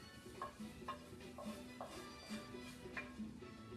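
Spoon stirring a hot vegetable stew in a pan, faint repeated scraping strokes in an even rhythm with a soft sizzle underneath.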